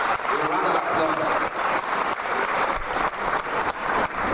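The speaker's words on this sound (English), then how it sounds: "With a round of applause." An audience at an African fashion reception in Paris bursts into sustained applause: dense, steady clapping from many hands, loud and close, without letup across the whole stretch.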